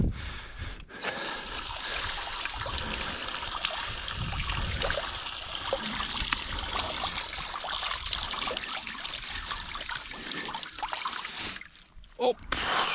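Water from a farm pressure washer sprays onto a scrub brush, a steady close hiss and spatter running for most of the span before briefly cutting out near the end, with someone talking intermittently over it.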